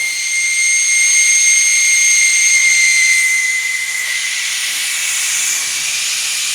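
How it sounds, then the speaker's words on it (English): Air hissing steadily out of a deflating tractor tire with the valve stem removed, a loud, close, continuous high-pitched whistling hiss that barely changes over several seconds. "I deflate it with the weight on the tractor still"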